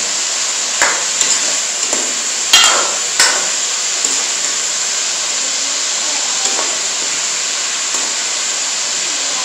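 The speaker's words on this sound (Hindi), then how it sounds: "गोश्त हमारा फ्राई हो रहा है।" Meat frying in oil in a karahi for Peshawari chicken charsi karahi, a loud constant hissing sizzle broken by a few sharp clanks of a spatula against the pan.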